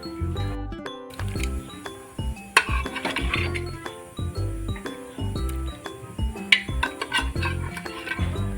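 Soft clinks and scraping as cooked, tender mutton is added and stirred into masala in a kadhai for a village-style Sunday mutton thali, with a spoon tapping against the pan in an uneven rhythm.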